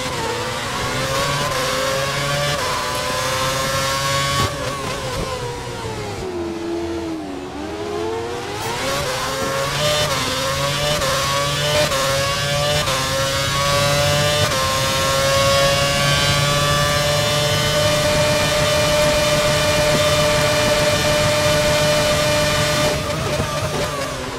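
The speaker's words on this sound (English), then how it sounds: "He's running full revs, maximum power." Race car engine held at full revs during a club race in India, a loud continuous high-pitched howl that sweeps slightly down and back up, near and steady for the whole stretch.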